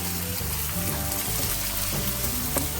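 Onion frying in a pan makes a dense, loud, steady hiss like rain, close by, with faint shifts as it is turned and no speech.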